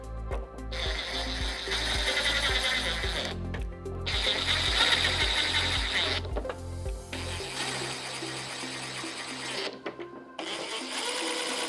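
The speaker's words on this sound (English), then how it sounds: "Simply slide it down and put your 4 screws in." Windshield screws being driven in on a 2024–2026 Harley-Davidson Street Glide Ultra, heard as loud bursts of rapid mechanical ratcheting and whirring from a nearby power screwdriver, broken by short pauses, with no talk.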